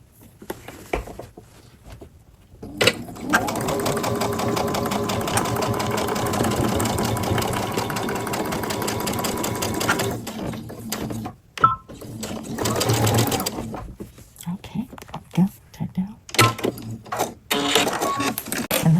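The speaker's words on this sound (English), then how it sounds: "we're going to sew it straight across." Sewing machine running a long, steady burst straight across a bag seam, loud and close with a rapid mechanical patter, followed by short stop-start bursts and fabric handling noises.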